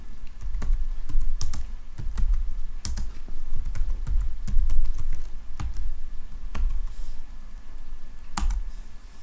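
Computer keyboard keys clatter in an irregular run of close, crisp presses, typing a DIR command in FreeDOS with no voices.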